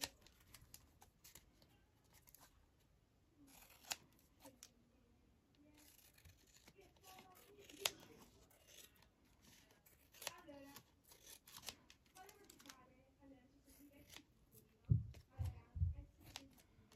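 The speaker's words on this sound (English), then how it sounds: "I'm just going to trim it down." Scissors trim a paper label for a tag craft, giving soft snipping and paper rustle up close, then a few louder cuts near the end, with a person speaking at times.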